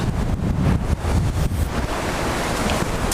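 Baltic Sea waves wash onto the shore in a continuous rushing surf, with heavy wind buffeting the microphone throughout, loud and close.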